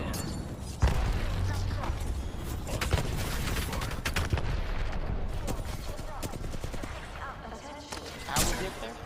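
Apex Legends firefight with dense rapid gunfire bursts and grenade blasts, loud and continuous, while players talk over the action.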